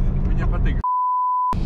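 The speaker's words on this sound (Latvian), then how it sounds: "Šito arī pīkstu uzliksim." A steady electronic censor beep at a single pitch lasts under a second. Speech just before it is cut off abruptly, and talk resumes right after.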